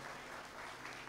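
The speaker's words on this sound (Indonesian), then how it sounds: "Tepuk tangan dulu bagi yang mau jadi Samaria." A church congregation claps steadily as a crowd during a sermon, a dense, even wash of applause with no pauses.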